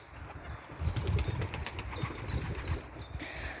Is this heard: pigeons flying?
yes